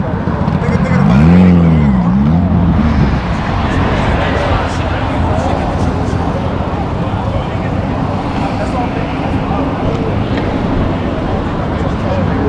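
Cars roll past at an annual Bear Mountain car cruise, a continuous rumble of engines and road noise with one vehicle's loud passing whoosh early on, while people talk over it.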